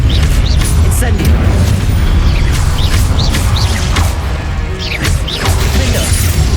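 A fire spell goes off in the Hogwarts Legacy video game with booming, crackling blasts and whooshes, loud and continuous over game music and effects, with short whistling chirps between.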